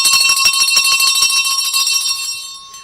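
A bright bell in a radio studio rings loudly and repeatedly in quick strokes, its sustained ringing tone gradually fading away at the end.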